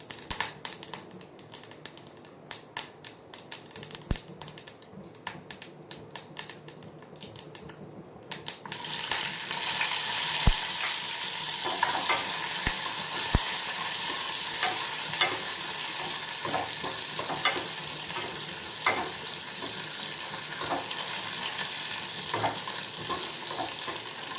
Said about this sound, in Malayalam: കടുകിട്ട് പിന്നെ കുറച്ച് കറിവേപ്പിലയും ഉണക്കമുളകും കൂടി ഇട്ട് തളിച്ച്